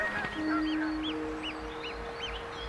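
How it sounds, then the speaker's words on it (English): Egyptian geese on frosted grass by a lake on a cold February morning give a series of about six short, rising-falling nasal honks, moderately distant, over a steady low hum. "In February, on a very cold morning, I discovered a family of Egyptian geese just eating the frosted grass."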